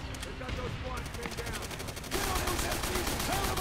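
Sustained machine gun fire from Call of Duty: World at War rattles on for several seconds, dense and loud, growing heavier and more intense partway through.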